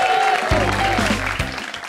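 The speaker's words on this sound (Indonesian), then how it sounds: "Tepuk tangan untuk Jobe." Crowd at a stand-up comedy league show in Jakarta claps for the next comic, steady applause under a booming low hum and a couple of heavy thuds from the stage sound system.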